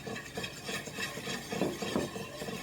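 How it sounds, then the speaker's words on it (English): Milk is whisked into a breakfast casserole mixture in a bowl, a quiet, continuous stirring and scraping with soft rhythmic swishes and light clinks and no voices. "Then you're going to add your 2 cups of milk and just whisk that in."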